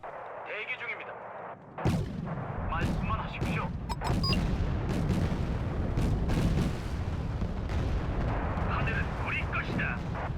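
Artillery fire from Wargame: Red Dragon, Busan Pocket 1987 campaign: repeated booming impacts and blasts after a quieter opening, dense continuous battle noise with sharp bursts, a voice talking over it.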